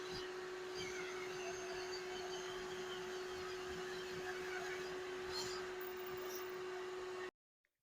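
A vacuum cleaner hooked up for a dryer vent and duct clean runs with a steady, even hum and rushing air throughout, then cuts off abruptly just before the end.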